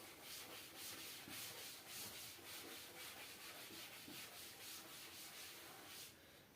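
Writing is rubbed off a classroom board with steady, rhythmic back-and-forth wiping strokes, close and continuous for several seconds, with no talking over it.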